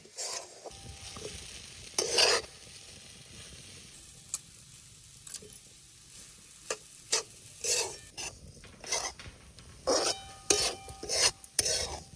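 Moong dal being stirred and roasted in a pan for a village-style shira, with repeated scraping, rasping strokes and a soft sizzle in irregular bursts, close by and with no talk.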